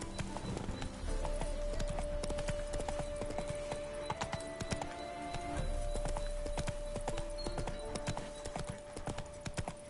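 Rapid, even hoofbeats of a galloping horse in The Witcher 3 on PS5 carry on without a break over soft game ambience and a sustained musical tone.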